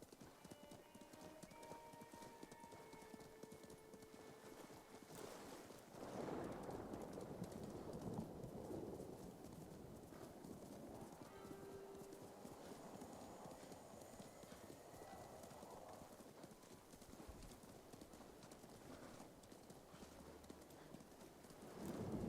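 Horse hooves clip-clop steadily in a Ghost of Tsushima game scene, a continuous rhythmic trot over ambient outdoor sound, with faint talk in places.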